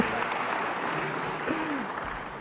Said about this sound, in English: Once again, round of applause for our panelists.